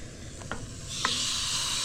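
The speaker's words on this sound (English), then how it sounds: "Can you hear that sizzle?" A brief scrape or two, then food starts sizzling in a pan while caravanning, the hiss swelling and holding steady up close.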